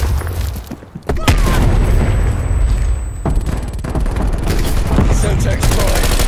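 A frag grenade blast in Call of Duty Black Ops Cold War multiplayer Domination lands as a heavy boom about one second in, surrounded by steady automatic gunfire and battlefield noise that continue to the end.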